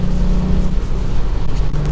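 A Volkswagen Up! GTI on firmer suspension cruising along a road at about 60 mph: a steady, loud low engine drone and road rumble, continuous throughout with no pauses.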